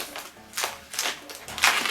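Rubber modelling balloon squeaking and creaking in quick bursts as it is twisted into a simple balloon dog, close and fairly loud, with no talk over it.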